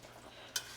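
Carrots and sugar are stirred in a pot over a low simmering hiss, with one short, sharp spoon scrape near the end.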